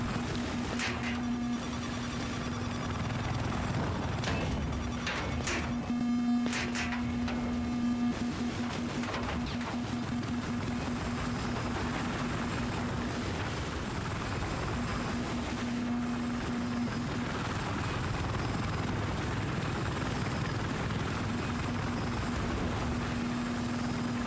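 Fully loaded support helicopter in a video game, a steady rotor drone with a sustained tonal hum running the whole time, joined by sharp clicks and bursts early on, fairly loud and with no talking.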